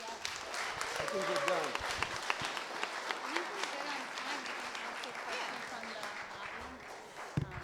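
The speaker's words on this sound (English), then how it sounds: "let's just give them one more round of applause" Audience applause at a mayoral candidate forum, sustained clapping from the crowd lasting several seconds, with voices and a few cheers mixed in as it fades.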